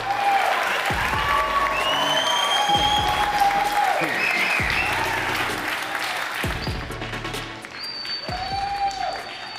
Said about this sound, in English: Please, applause for Row Patrol.